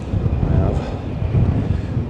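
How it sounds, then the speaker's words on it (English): Wind buffets the microphone on a Welsh holiday outing, a steady low roar and rumble throughout, with a possible faint voice underneath. "It is a bit windy."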